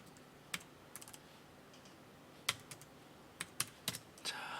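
Typing on a computer keyboard while entering data into an Excel spreadsheet: sparse, crisp key clicks in small bursts, close and quiet, with no talking.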